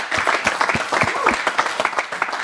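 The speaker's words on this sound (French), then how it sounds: "Applaudissements." A studio audience applauds a choir on an arts program, with sharp individual claps standing out in a lively, moderately dense burst.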